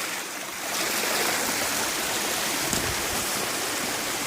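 A small waterfall in a stream splashes steadily, a constant bright rushing of water close by, with no voices.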